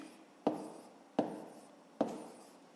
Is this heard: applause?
no